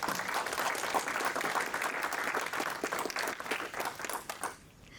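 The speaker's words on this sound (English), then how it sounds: "Let's give a big round of applause." An audience at an investor conference session gives steady, dense applause for a guest coming on stage, fading out after about four seconds.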